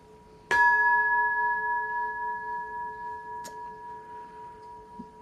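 A single meditation bell struck once, ringing out clearly with a long, pure, slowly fading tone in a quiet room, followed by faint small knocks.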